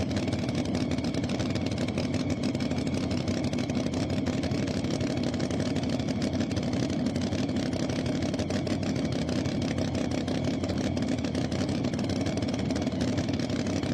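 A pulling truck with a Ford Ranger body and a Sassy Racing engine roars steadily at a tractor pulling event, its loud, dense engine drone holding for the whole stretch without letup.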